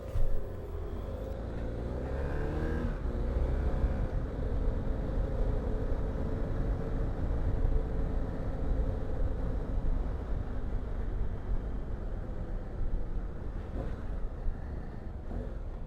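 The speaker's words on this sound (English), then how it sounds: "Here's our group leaving the start on day 1 from Palmdale, California." A group of motorcycles leaves the start of a desert ride from Palmdale, California, toward Barstow and Las Vegas, with a steady engine drone and rising revs under heavy wind rush across the microphone throughout.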